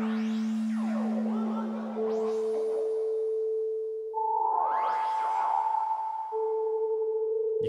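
Metallic, bell-like ring modulator synth tones from Bitwig Studio with sweeping, clangorous overtones shift pitch in steps and ring out, sounding electronic and inharmonic.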